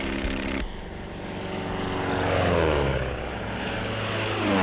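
A propeller airplane skywriting with smoke drones steadily overhead, its engine note swelling and shifting in pitch as it passes at moderate distance.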